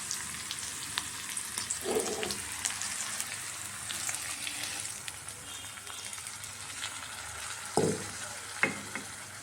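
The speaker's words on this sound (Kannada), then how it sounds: "ಈಗ ಇದನ್ನು ಬಿಸಿಬೇಳೆ ಬಾತ್ಗೆ ಹಾಕಿ ಮಿಕ್ಸ್ ಮಾಡೋಣ." Fried chili tempering stirred into bisi bele bath in a pan, a continuous close sizzle and crackle with a few soft stirring scrapes.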